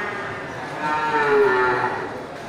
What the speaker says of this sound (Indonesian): Mantap ya, sapi Bali.